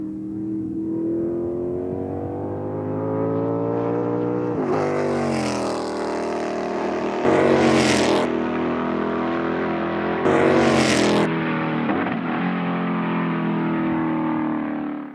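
A 1968 Lola T-160 Can-Am race car engine at a vintage race event holds a loud, steady drone close by, its pitch climbing as it revs, with two brief harsher bursts midway and no voices.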